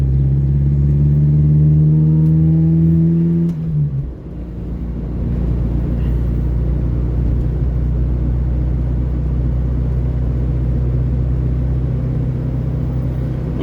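Car on a leisurely Sunday drive, a steady engine hum and road rumble heard from inside, with a shift in engine note a few seconds in before settling into an even drone.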